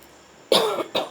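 Two quick coughs from someone with a sore throat, close and loud, the first longer and raspy, the second short, with a brief pause between.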